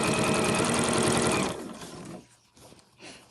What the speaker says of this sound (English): I'm just going to sew along the edge